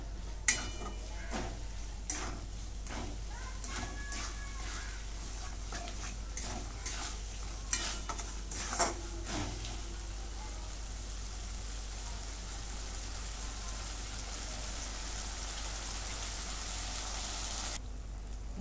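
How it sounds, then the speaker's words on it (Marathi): Spice paste roasting in oil in a pan for paneer korma, a steady close sizzle and frying hiss throughout, with scraping stir strokes clustered in the first half. "आणि हे वाटण हे चांगलं भाजून घेऊया."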